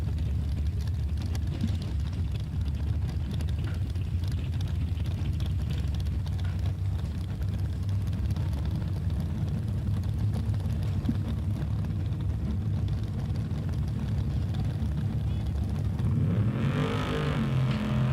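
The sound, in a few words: drag racing trucks launching down the strip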